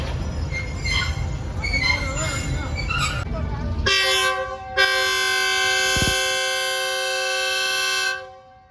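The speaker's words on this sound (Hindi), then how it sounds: "तो बहुत लाउड हॉर्न है जियो 40 का।" A GEO 40 locomotive hauling the Shalimar Express blasts its loud multi-tone horn, a sustained close blare lasting several seconds after a stretch of rumbling train noise and background chatter, cutting off abruptly.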